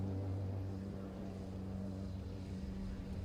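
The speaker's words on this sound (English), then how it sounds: "You can hear the slight burble of the engine." Renault Clio Cup race car in qualifying at Paul Ricard, Clio Cup Europe 2021, its engine giving a low, steady burble that stays even and moderately loud throughout, with no voices.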